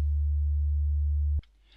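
Low sine-wave tone from an operator on a Native Instruments FM8 synthesizer, with key sync on, patched for a dubstep bass stab: a steady, loud, pure low hum that holds for over a second, then cuts off abruptly into faint hiss.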